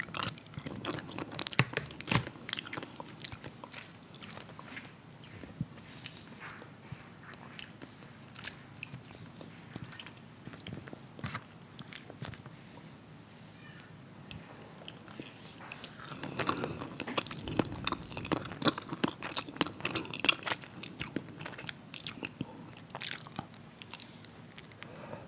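A muffin is eaten up close: steady, crisp biting and moist chewing continue throughout, quiet and intimate, with a louder run of munching about two-thirds of the way through.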